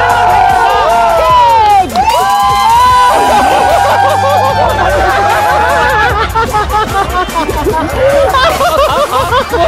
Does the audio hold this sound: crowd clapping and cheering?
yes